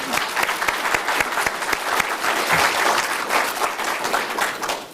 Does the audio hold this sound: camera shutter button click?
no